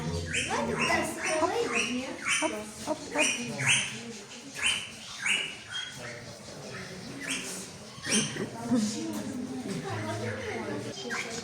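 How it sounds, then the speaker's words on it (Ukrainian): Birds chirp and tweet at the Kyiv zoo, with bright, busy calls layered throughout under a person talking. "Ще тут дуже-дуже-дуже багато пташок."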